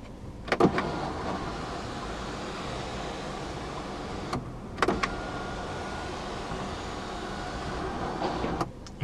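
A fully automatic panoramic sunroof on a 2019 BMW X2 M35i running its motor, a steady electric whir heard from inside the cabin, with a few sharp clicks and clunks as it starts, pauses and stops.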